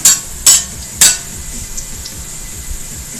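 Onions fry in a pan for chicken biryani, crisping toward golden brown. A steady low sizzle runs throughout, and three sharp bright hisses or scrapes come near the start.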